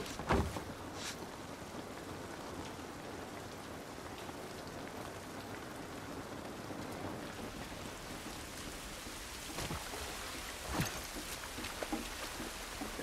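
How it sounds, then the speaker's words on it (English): Steady rain falls in The Last of Us Part I video game, a dense continuous hiss with a few brief louder spatters and splashes breaking through, no voices over it. "This rain ain't gonna do us any good."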